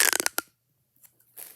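Small fidget toy clicked by hand, a quick cluster of sharp close clicks at the start, then a silent gap and a few faint ticks afterward.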